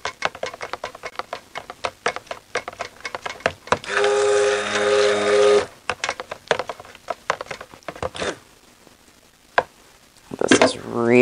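Hot cocoa soap mixture stirred after fragrance oil goes in: quick tapping, clicking strokes of a utensil against the container, then a steady humming whir for about two seconds, more clattering stirring, a quiet pause and a final burst of clicks.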